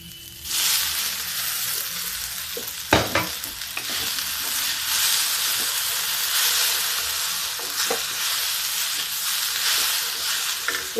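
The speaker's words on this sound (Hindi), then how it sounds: "अब इसमें हम ये वाला तड़का लगा देते हैं।" Tadka tempering sizzling loudly in a pan while bhindi (okra) cooks, a steady hissing fry with a few sharp crackles and pops, close and continuous, with no talking.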